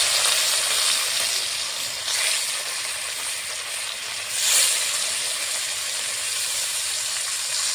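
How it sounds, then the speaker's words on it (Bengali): Marinated katla fish sizzles in hot oil in a wok, a continuous close hiss with sharper bursts of spitting and steam every few seconds. "মেখে রাখা মাছগুলো এখন ভেজে নেব"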